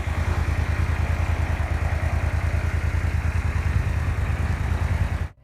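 A V-twin motorcycle engine runs with a steady, loud, throbbing exhaust pulse close by, holding an even beat for about five seconds before cutting off abruptly.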